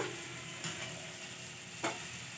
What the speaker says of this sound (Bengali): এরপর আমি সিদ্ধ করে রাখা পাস্তাগুলো দিয়ে দিচ্ছি